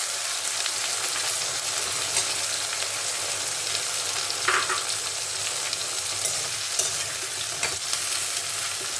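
Finely chopped flat beans fry in a pan, giving a steady, close, even sizzle and crackle that carries throughout with no talking.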